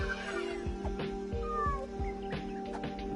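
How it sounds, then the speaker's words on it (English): A cat meows faintly in the background during LittleBigPlanet 3 gameplay, a short rising cry over a steady hum and repetitive low thumps. "I distinctly heard a meow."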